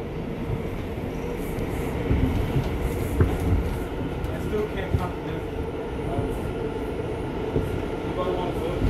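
An R179 subway train on the NYC 8th Avenue line rumbles and rattles steadily, with faint clicks of the wheels over the rails, while a person's voice is heard now and then.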